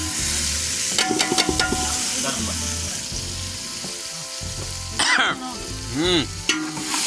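Tomatoes hit a hot frying pan and set off a loud, crackling sizzle that carries on with stirring scrapes, while brief voices break in near the end.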